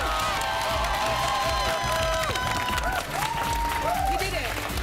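A studio audience on a Big Brother spin-off show cheers, whoops and claps in a dense, continuous wave of crowd noise, with high shouts rising above the applause throughout.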